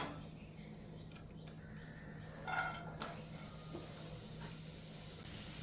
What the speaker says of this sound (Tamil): கடாயில் கொஞ்சமாக ஆயில் சேர்த்து நம்ம கட் பண்ணி வச்சுருக்க வெங்காயத்தையும் குடமிளகாயும் ஆட் பண்ணிக்கலாம்